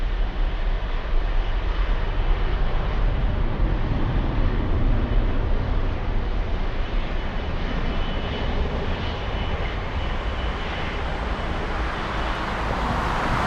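A FedEx Boeing 767 at Frankfurt airport, its jet engines producing a steady, loud broadband roar that holds for the whole stretch, with no voices over it.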